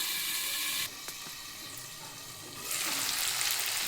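Steady broadband sizzling of potatoes and tomatoes frying in a pan, dropping quieter for a couple of seconds before swelling back up loudly.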